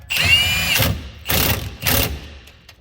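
A power wrench works a shock bolt during a shock replacement on a 2016-2023 Subaru WRX STI, firing in three loud, close bursts separated by short pauses, the first ringing with a faint whine.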